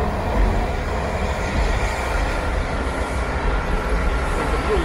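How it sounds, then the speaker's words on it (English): Blue Line DC Metro train pulling into the lower level of an underground station where several lines converge, a steady broad rumble and rail roar that stays loud and continuous throughout, with no talking. "here comes the train now."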